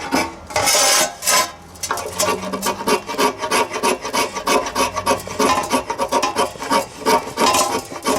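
The spine of a knife scrapes hard along a ferrocerium rod over fatwood, making repeated rough rasping strokes in a quick, uneven rhythm, close and loud with no talk.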